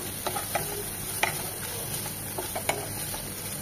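Chopped onion, bay leaf and whole spices frying in oil in a pan, a steady close sizzle with a few soft stirring clicks scattered through, no voices.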